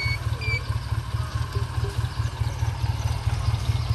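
A 1997 Honda CM125 custom motorcycle idles close by with a steady, even low thump, its smooth pulsing beat continuing alone without speech.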